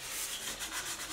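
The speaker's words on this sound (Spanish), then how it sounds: "En los bordes de aquí se amolda la lija." Continuous hand sanding of old wooden furniture with sandpaper, a steady hissing rasp with faint rhythmic strokes, close and alone without talk.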